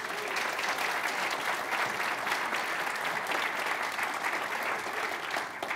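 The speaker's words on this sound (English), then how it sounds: "clap for a little bit" An audience at a tech talk about building Expo apps claps on cue, a dense steady burst of many hands that holds at an even level for about six seconds with no voices over it.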